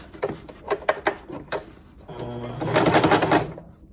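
A sewing machine stitches applique onto a kitchen towel in short bursts of rapid mechanical clatter, followed by a longer continuous run of stitching, close and fairly loud with no talking.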